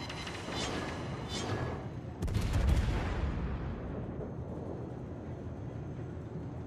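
Naval gunfire in World of Warships. Distant booming shots sit over a constant rumbling drone, with one louder, sharper salvo partway through and no talk.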